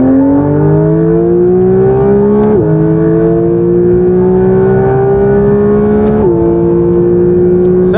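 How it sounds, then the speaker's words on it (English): Porsche GT3 fitted with a titanium IPE exhaust, accelerating hard through several gears, loud and close, its engine note climbing steadily between sharp shifts with no talk. "we're now going to see what the new exhaust sounds like as well."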